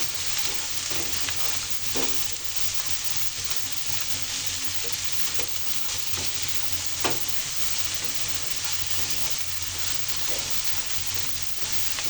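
Chopped okra with shrimp and green chili stir-fried in a pan, a continuous loud sizzle with occasional spatula scrapes and knocks as the vegetables are kept moving.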